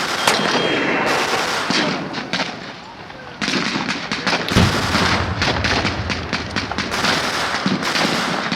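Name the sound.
D-Day reenactment field battle gunfire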